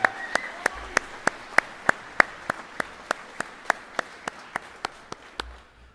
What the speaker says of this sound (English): let's give all these college employees a good round of applause